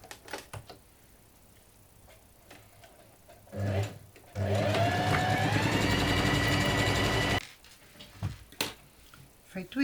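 A sewing machine runs in one sustained burst of whirring stitches lasting about three seconds, seaming a fabric bread bag, with a short start before it and quiet handling sounds around.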